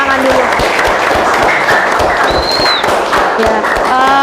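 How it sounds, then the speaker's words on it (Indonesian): Students applaud together in a classroom, a dense, steady patter of clapping mixed with scattered voices and a few cheers, filling the room at close range. "Oke, silakan kasih tepuk tangan dulu."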